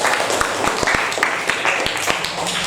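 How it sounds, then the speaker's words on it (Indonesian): A classroom group claps together, a loose, uneven patter with several sharp individual claps standing out close by, under a busy room with some voices. "Tepuk tangan untuk semuanya."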